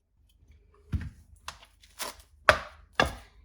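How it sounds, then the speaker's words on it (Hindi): A knife chops a peeled kiwi into pieces, four or five sharp, separate cuts landing close by on a board with brief pauses between them, while a faint low hum runs underneath. "कीवी को भी ऐसे ही काट के इसके 2 पीस काट के लेंगे"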